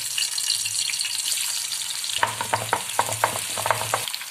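Onions fry in oil in a pan for a chicken nihari tadka, giving a steady, close sizzle, with a run of stirring scrapes and clatters near the end.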